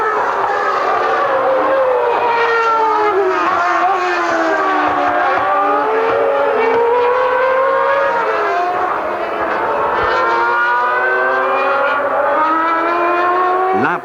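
Formula 1 race cars from 1994, including Schumacher's Benetton, with loud high-revving engines that whine and shift in pitch, overlapping continuously as cars pass, beneath race commentary.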